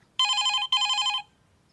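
A mobile phone rings from inside a coat pocket, two bright electronic ring bursts in quick succession, then quiet.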